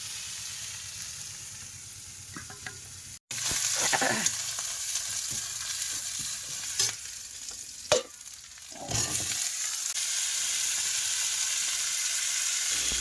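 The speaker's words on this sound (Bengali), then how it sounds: "এভাবে কুমড়ো ভাজাটা ভালো করে ভেজে নিচ্ছে বা তুলে নেবে" Sliced pumpkin fries in oil in a pan in a home kitchen, a steady close sizzle broken by a few scraping stirs and clinks midway before the even hiss resumes, with no one talking.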